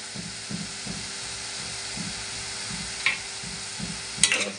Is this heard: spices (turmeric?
yes